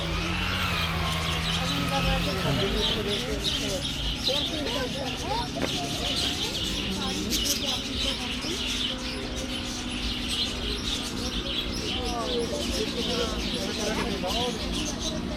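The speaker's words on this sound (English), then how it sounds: "some actual birds in this place." Caged birds at a bird park in Chandigarh, India chirp, tweet and coo continuously in a busy chorus, while people talk and other background noise runs throughout.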